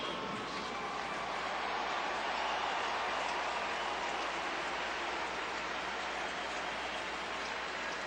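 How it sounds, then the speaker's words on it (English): A ballpark crowd at a Cubs versus Twins baseball game applauds a batter coming up to the plate, producing a steady, roaring wash of clapping and cheering that holds level throughout. "Nice applause for Jock Jones."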